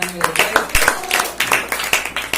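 Quick rhythmic hand claps ring out from a quiz show audience, sharp and close, with a voice talking over them.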